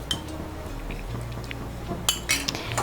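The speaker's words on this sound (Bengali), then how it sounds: "এভাবে নাড়তে থাকবো।" A spoon stirs milk in a pot as vinegar is added to curdle it into chhena. A low steady hum runs throughout, and a few light metallic clinks come near the end.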